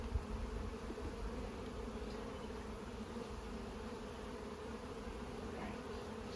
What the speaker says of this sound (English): now. Bees.